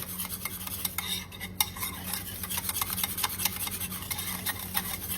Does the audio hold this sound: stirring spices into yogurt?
yes